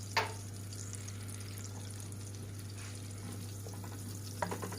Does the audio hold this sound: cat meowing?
no